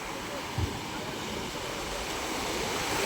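Steady broadband rush of large ocean surf beside a boat, continuous and fairly loud, with a brief thump near the start and no talking.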